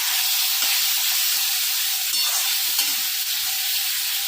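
Fried capsicum and onion go into a pan for chilli chicken and are stirred, giving a steady loud sizzle and hiss with light scraping stirs throughout, close up and with no voices.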